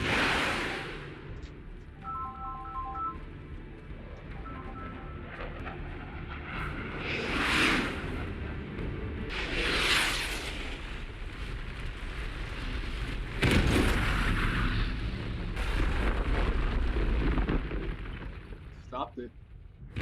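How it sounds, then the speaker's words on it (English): A torpedo with a conventional warhead is fired and explodes in a sci-fi TV show, with deep rumbling blasts and a swelling roar under a low soundtrack, while people talk over the action. "We're gonna drop a torpedo on that thing, conventional warhead."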